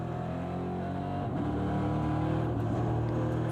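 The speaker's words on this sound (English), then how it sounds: "Fantastic noise from the 400 brake horsepower V8 engine as Stinis Longines looks to try" A 400 brake horsepower V8 race car engine drones steadily at Zolder circuit, a low harmonic roar that dips briefly then climbs again as the car pushes on, heard from a moderate distance without talk.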